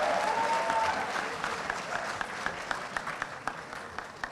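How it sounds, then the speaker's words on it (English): A crowd applauds steadily at a Model UN closing ceremony, the clapping dense at first and thinning slightly toward the end, with a few sharp individual claps standing out. "give it a big round of applause for the host team."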